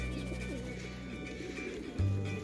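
Pigeons being fed in a park coo softly nearby in a low, throaty warble, with a brief thump near the end and faint background murmur.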